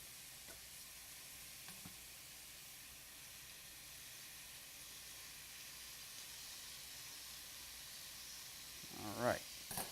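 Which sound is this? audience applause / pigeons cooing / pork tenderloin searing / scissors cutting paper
pork tenderloin searing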